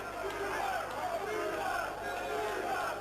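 Crowd at an Oxford versus Cambridge rugby league varsity match cheering and shouting from a distance, rising and falling in swells under a commentator's steady talk.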